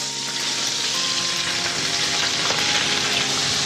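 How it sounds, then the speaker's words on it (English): Peppers fry in a hot pan for a seafood paella, giving a steady, dense sizzle that stays close and even throughout, with no voices. "we're going to add this in there and fry all that off"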